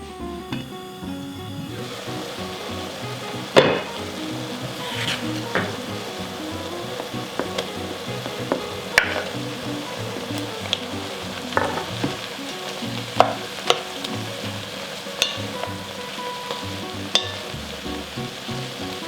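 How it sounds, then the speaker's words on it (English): Onions and leeks cook slowly on low heat in a pan for potato leek soup, a soft steady sizzle running throughout with scattered light clicks and occasional stirring taps, no voices over it. "just let the onions and the leeks cook super slow on low heat for 5 to 10 minutes"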